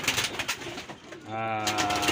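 Racing pigeons coo in a low, throaty warble that swells near the end, heard close up after some rustling and faint background talk.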